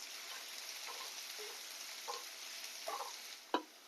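Chopped garlic frying in a pan, a soft continuous sizzle with faint crackles, ending in a sharp utensil tap against the pan, no voices.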